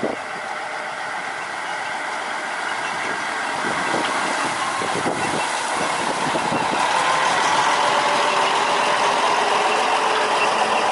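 A small plantation rail locomotive pushes through overgrown grass on a long-disused track, its engine running with a steady, rough mid-pitched drone that grows slightly louder, with rustling and scraping throughout and no talking.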